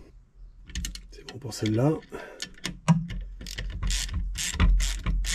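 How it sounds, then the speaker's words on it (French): Ratcheting clicks from a wrench spinning the last turns onto a bolt while a car's voltage regulator is replaced, quick close bursts mixed with someone speaking French. "Allez, les derniers tours de clé."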